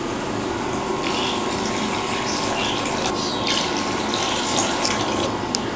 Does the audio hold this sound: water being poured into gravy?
yes